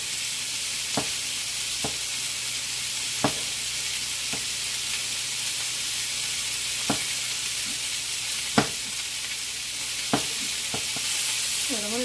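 Three cloves of thinly sliced garlic fry in a pan, giving a steady close sizzle throughout with occasional sharp clicks and pops of utensil contact, no talking.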